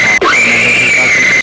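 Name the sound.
woman screaming loudly in an animated horror story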